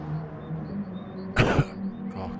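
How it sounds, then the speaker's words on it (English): A single harsh cough bursts out briefly near the mic during a live Mini Cooper Cup race broadcast, a short double-pulsed hack rising above steady background murmur and low engine hum. "Sort that cough out."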